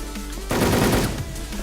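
In the Wolfteam video game, a loud, rapid burst of machine gun fire starts abruptly, rattles for under a second, then cuts off, leaving a low background hum.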